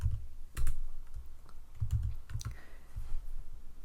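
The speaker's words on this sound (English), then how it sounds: "I'm going to type in snowflake" Keys on a computer keyboard clatter in short clustered bursts of typing, close and fairly loud, with small pauses between strokes and no voices.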